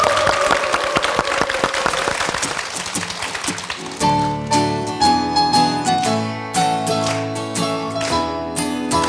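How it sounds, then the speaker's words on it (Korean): A crowd at an outdoor talk concert applauds steadily for several seconds to welcome a band, then the band's music begins and carries on loudly. "따뜻한 박수로 맞아주십시오"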